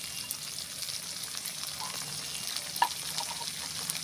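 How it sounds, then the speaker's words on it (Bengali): Tomato pulp and chopped onion fry in a pan for mango achari chicken, making a soft, continuous sizzle with a few faint stirring clicks and one sharper tap. "এবারে আমি এই যে টমেটোর ভিতরের অংশটা আর অল্প কুচানো পেঁয়াজ এটা দিয়ে দেবো"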